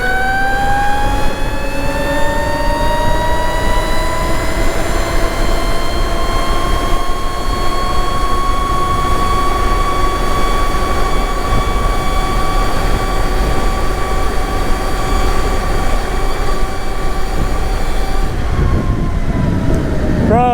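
An electric bike pulls away at full throttle toward top speed, its motor whine climbing steadily in pitch over a loud, constant rush of wind before cutting off abruptly near the end.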